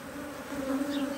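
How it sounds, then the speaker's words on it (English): Honey bees buzz in a dense, close hum during a HiveIQ beehive inspection, a steady drone that swells slightly toward the end. "shake all the bees off all the frames into the bottom box"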